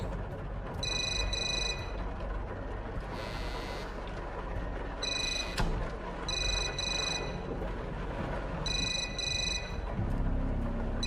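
Telephone ringing in a horror video game, repeated bell-like bursts in a steady pattern over a constant low background hum, with short gaps between rings.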